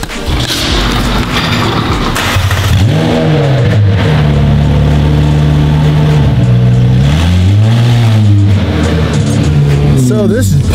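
A twin-turbo widebody Ferrari with 1000 horsepower revs hard in snow, its loud engine rising and falling through several deep swells, with thumps and a voice briefly audible over the roar.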